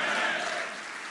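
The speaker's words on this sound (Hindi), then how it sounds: "तालियों की गड़गड़ाहट के द्वारा।" Party workers at a BJP foundation day event applauding together, a dense wash of clapping that starts full and fades slightly toward the end, with no one speaking over it.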